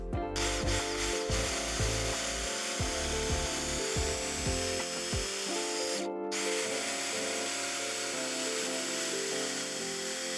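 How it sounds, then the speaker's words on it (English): Power driver sinking 3-inch exterior grade wood screws up through the bottom of scrap-wood bench side rails, several short whirring bursts close by, separated by brief pauses and wood creaks. "We're attaching the side rails using the same 3-inch exterior grade wood screws, and we're coming up through the bottom."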